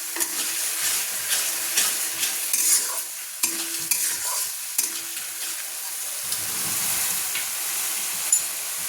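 Spices and ginger paste frying in oil while being stirred, a close busy sizzle broken by repeated utensil scrapes against the pan, steady throughout with no talk.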